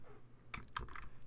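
A couple of computer keyboard keys pressed for a Ctrl+Z undo shortcut while editing in Photoshop, two quick soft clicks close up with a faint third, quiet and without talk.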